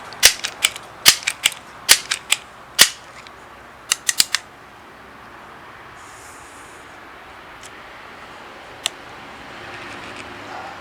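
A Crosman 1377 American Classic .177 pellet pistol is handled and fired, giving a quick series of sharp clicks and snaps in the first few seconds, a few more later, then a lone crack, close and dry.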